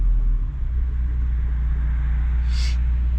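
The turbocharged Honda Civic's R18 engine idles nearby with a steady, low, loud rumble. About two-thirds of the way through, a brief hiss rises above it.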